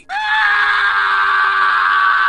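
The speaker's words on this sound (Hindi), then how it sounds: "एक डरावनी चीख गूंजी," A single scary scream rings out loud and sustained for over two seconds, a shrill, steady cry with no talk over it, set in a spooky horror story about a haunted bus.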